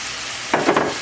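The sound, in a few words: white rice dumped into pan and stirred in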